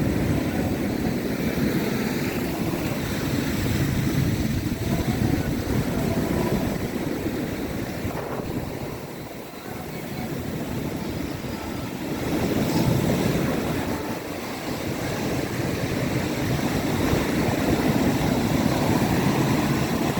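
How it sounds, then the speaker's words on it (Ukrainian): Steady surf and wind along the Black Sea shore at Odesa's Golden Shore in December, a continuous low roar that dips briefly and swells again, with gusts buffeting the microphone. "подивіться, послухайте шум прибоя"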